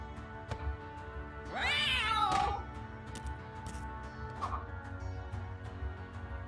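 A cartoon cat meows in a dungeon-crawling card game, a rising and falling yowl of about a second over steady background game music, with a brief fainter mew a couple of seconds later.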